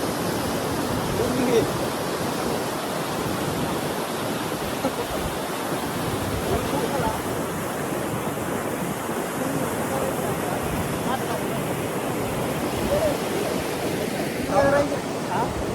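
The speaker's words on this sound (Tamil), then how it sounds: "அணைக்கட்டை பாருங்க, தண்ணி உள்ளதை பாருங்க" A steady, loud roar of water rushing at a dam fills the scene continuously, a dense wash of noise with no pauses.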